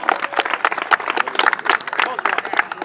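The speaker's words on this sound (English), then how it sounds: "Give a big round of applause." Crowd applause for the NYPD softball team after a game against Shomrim, a dense, steady patter of many hands clapping for about three seconds, with voices mixed in.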